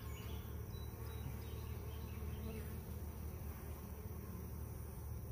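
Honey bees swarm around a hive outdoors in a dense, steady buzz that hums continuously at moderate distance with no voices.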